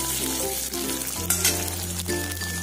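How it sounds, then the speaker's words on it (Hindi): Raw peanuts roasting in a pan over low heat make a moderate, even frying hiss with light stirring scrapes over a constant low mechanical hum. "मैंने मूंगफली के दाने डाल दिए, इनको अच्छे से रोस्ट कर लेंगे"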